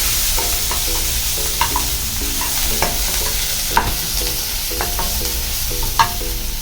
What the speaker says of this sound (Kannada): ಇವಾಗ ಇದು ಬಿಸಿ ಆಗಿದ್ದಕ್ಕೆ ಬೆಳ್ಳುಳ್ಳಿ ಮತ್ತು ಶುಂಠಿ ಪೇಸ್ಟ್ ಹಾಕೊಳ್ಳೋಣ ಫಸ್ಟು